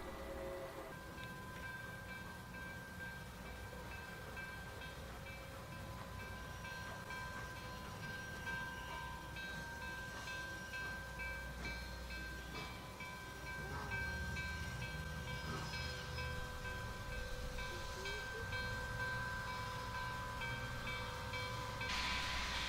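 Steam locomotive Nickel Plate Road 765 idles and rumbles at a railroad crossing in Michigan woods with a sustained tonal whine and hiss, steady and moderately loud throughout.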